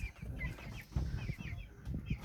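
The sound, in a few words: broiler chickens in a farm shed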